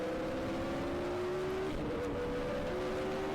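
An onboard 1980s/90s Formula 1 car howls around a lap at Spa, its high engine note rising and shifting steadily, loud and close, with no speech.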